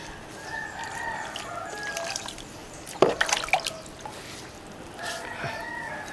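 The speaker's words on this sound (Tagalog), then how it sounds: "anong nangyayari kapag puno, kagaya ito sa akin, natapon naman yung tubig" Water spilling over the brim of an overfilled bonsai pot while it is watered, with splashing drips peaking midway, while a rooster crows in the background.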